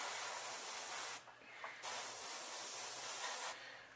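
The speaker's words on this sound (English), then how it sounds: "let's run some black down the spine and let some of that overspray enhance that black magenta" Black paint sprayed from an airbrush onto a factory fishing lure being repainted as a lemon pumpkinseed: a steady close hiss broken by two short pauses, with no talking.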